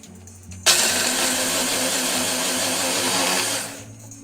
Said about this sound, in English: Then blend them all together in the blender.